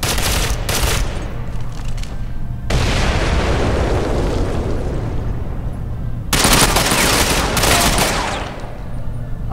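Heavy gunfire in the online shooter Ghost Recon Online, with loud sustained automatic bursts and booming shots that break off briefly and then resume, close and dense, with no voices over it.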